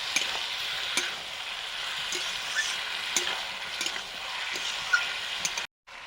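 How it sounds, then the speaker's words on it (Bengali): Water spinach (kalmi shak) sizzles steadily in a frying pan with salt, close and continuous, with soft stirring clicks scattered throughout before the sound cuts out abruptly near the end. "কলমি শাক ভাজা হবে।"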